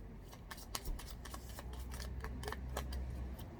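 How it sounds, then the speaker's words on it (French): A deck of tarot cards shuffled by hand before a reading, a quick, close series of soft riffling snaps and flicks in an irregular rhythm with no talking. "On va faire un tirage à 9 cartes."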